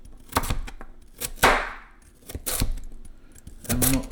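A knife chops a carrot into very small pieces on a board, with sharp irregular knocks up close, single hits and quick pairs spread over a few seconds.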